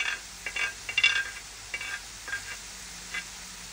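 Chopped ash gourd and bamboo shoot fry in spiced oil in a pan with a low, soft sizzle and a few light stirring scrapes at intervals. There is no speech.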